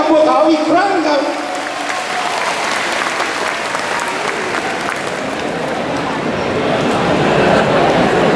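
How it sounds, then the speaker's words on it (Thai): Loud, sustained crowd applause and cheering fill a packed Muay Thai boxing arena at a WBC world title bout in Chiang Rai, with an announcer's voice carrying over the steady roar. "ขอเสียงปรบมือให้กับพวกเขาอีกครั้งครับ"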